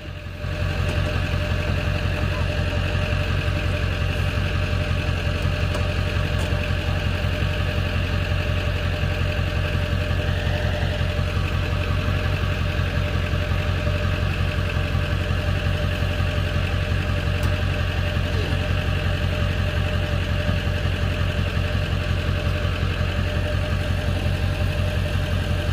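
Truck engine idling in a pasture with sheep and a cow, a steady low mechanical hum with a constant throb, unchanging and close for the full duration, no voices.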